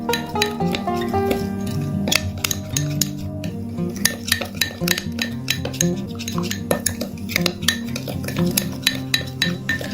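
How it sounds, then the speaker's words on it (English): Metal utensil stirring a salt, coffee and olive oil mixture in a bowl, giving steady scraping with frequent sharp clinks against the bowl's side, close and continuous throughout. "Now we need to mix well all the ingredients until they combine and get very well mixed together."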